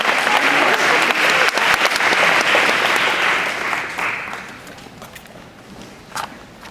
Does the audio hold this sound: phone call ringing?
no